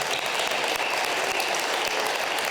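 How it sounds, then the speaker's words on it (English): At an international school literacy celebration in northern Japan, an audience applauds the judges with steady, dense, continuous clapping that holds at an even level throughout, with no voices. "So let's give a round of applause for our judges."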